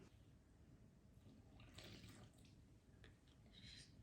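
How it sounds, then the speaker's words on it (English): Water trickles slowly into maseca corn flour for pupusa dough, a soft, faint, continuous liquid pour with light splashy bursts toward the end. "We're gonna add the water slowly."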